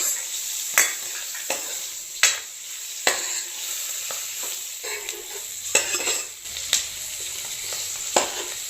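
Salted dried fish frying in a pan with chili powder and salt, a steady near sizzle broken by repeated sharp scrapes and taps of a spatula as the pieces are stirred and turned, with no talk.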